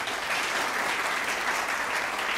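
An audience claps at a live stage show: dense, continuous applause from a sizable crowd, loud and even across the whole stretch with no pauses.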